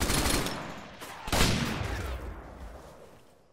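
Sniper gunfire in an Arma 3 combat mission, a few loud cracks with long echoing tails that fade out toward the end.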